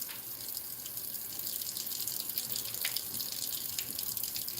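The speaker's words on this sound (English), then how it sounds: "Rinse my hands off here real quick." Tap water running steadily into a sink while hands are rinsed under it, a close, continuous hiss and splash with slight changes as the hands move through the stream, no voices.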